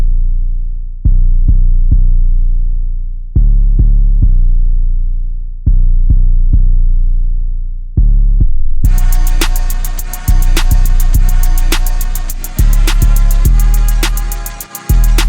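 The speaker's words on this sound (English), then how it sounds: "That's the Spins 808, which is the most common 808 used in hip-hop music." Spins 808 bass sample in a hip-hop beat: deep booming 808 hits with long decaying tails, first played alone, then joined by crisp rapid hi-hats and snare, loud and upfront.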